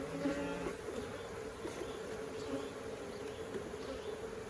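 An aggressive honey bee colony with a new queen buzzes in a steady, dense drone, many bees humming close by at a constant level without any voices.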